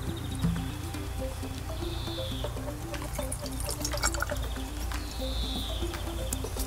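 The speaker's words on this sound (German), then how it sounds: "Und fülle dann 1 Liter Wasser dazu." Water poured into a handheld garden sprayer to mix with milk as a rose-disease treatment, a steady close trickling and splashing with a faint hum underneath, no talking.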